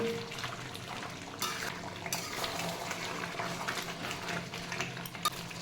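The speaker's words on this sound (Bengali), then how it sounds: "দিয়ে দিচ্ছি আলু ভাজাটা।" Fried potatoes tipped into a pot of spiced chicken kosha and stirred, giving a steady wet scraping and sizzling with light clinks of a spoon against the pan, continuous and close.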